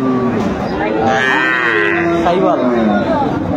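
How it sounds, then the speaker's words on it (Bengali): A Sahiwal cow and her female calf moo loudly and close by, a drawn-out low call with rising and falling tones, repeated in overlapping bellows for a few seconds. "সুন্দর মানসম্মত গাভী বাছুর আমরা দেখছি"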